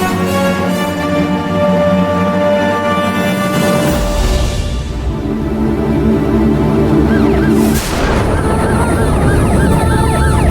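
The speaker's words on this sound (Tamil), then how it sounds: "சைரன் சவுண்ட் கேக்குது." An emergency siren wails loudly and continuously, its rising and falling tones shifting abruptly partway through, with no voices over it.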